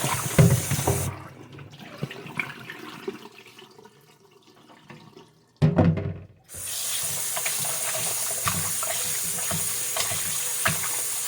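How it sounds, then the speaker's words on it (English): Marinated skirt steak, treated with baking soda, rinsed under a running kitchen tap: a short splash of water at first, then after a pause a loud, steady stream of tap water pours over the meat until the end. "You want to rinse this a couple of more times to make sure you get all that baking soda off."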